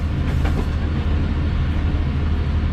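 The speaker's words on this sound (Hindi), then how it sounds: "हल्के से हमारे ट्रेन राइट तरफ लेकर आगे बढ़ रही है।" A train rolling slowly out of the yard on a business-class journey, heard as a steady, loud low rumble with faint clatter. No voices are present.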